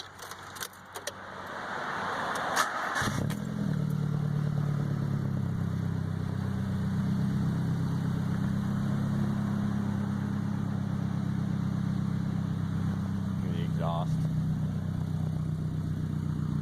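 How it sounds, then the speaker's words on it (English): A car with an aftermarket ISIS dual-tip straight-pipe exhaust and no muffler starts after a brief jingle of keys, then settles into a loud, steady, raspy idle that holds close to the microphone for the rest of the clip. "So real quick, I'll start this car up for you guys. You guys can hear how well it runs."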